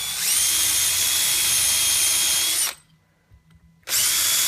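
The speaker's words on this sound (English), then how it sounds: "Now I'm just going to come in and drill my little pilot hole through that." A power drill whines loudly while boring a pilot hole through wood on a backer board, cuts off abruptly for about a second of near silence, then starts up again, close and alone with no talk.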